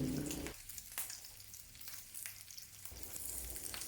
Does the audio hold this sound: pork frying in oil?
yes